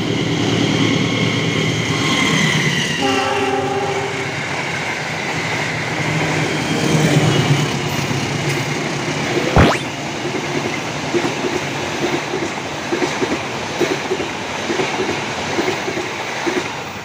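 A Tokyo Series 8000 electric train races past at speed on the Bekasi line, a loud, steady rumble of wheels on rail with repeated clickety-clack beats and a sharp horn-like tone partway through.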